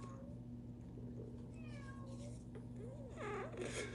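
Cats meowing indoors, faint drawn-out mews at low level over a steady electrical hum, with a louder wavering cry near the end and no speech.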